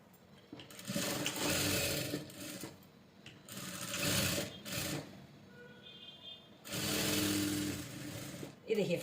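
A sewing machine stitches the side fitting of a floral gown in several bursts of fast, close mechanical whirring, separated by short pauses.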